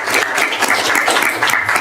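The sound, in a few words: audience applause at a board meeting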